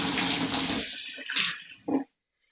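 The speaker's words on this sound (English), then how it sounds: "So we're going to dump out all this water" Water from a turtle tank pours out in a heavy broadband rush for about a second, then tapers into scattered splashes and a final short gush before stopping.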